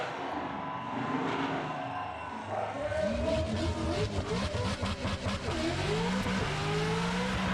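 A car performing a burnout at a burnout grand final in Australia, engine revving hard with a rising, pulsing roar and tyres spinning, loud and continuous after a quieter opening.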